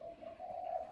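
A spotted dove for sale at a bird breeder's gives a soft, steady coo, faint and close with no voices over it.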